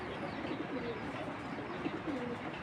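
A female Chorui-breed pigeon coos softly in a low, repeated rolling call, faint against a steady hiss of background noise with no talking.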